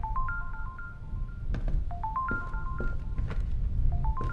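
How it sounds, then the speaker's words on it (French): A telephone rings in a horror video game, its electronic warbling tone repeating in short bursts over low rumbling storm ambience, mixed with scattered clicks and knocks. "je crois qu'il y a un téléphone qui sonne"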